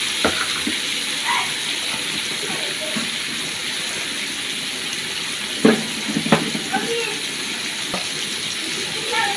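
Carrots and potatoes frying together in a pan, giving a steady hiss and sizzle throughout with a few light clicks and scrapes of a utensil, moderately loud and close.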